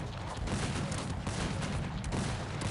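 Dense, continuous battle noise in the strategy game Cossacks 3, with rapid overlapping musket volleys from riflemen, loud and sustained throughout.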